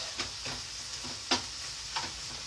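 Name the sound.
stirring food in a pan with a spatula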